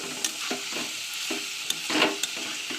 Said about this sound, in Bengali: পোস্তের সঙ্গে সবজিটা কষিয়ে নিয়ে আলু সিদ্ধটা দিয়ে দিয়েছি